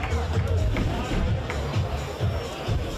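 Crowd noise at a boxing arrivals event in Brisbane: a dense, steady roar of cheering and applause from a large audience, with an announcer's voice carrying over it throughout.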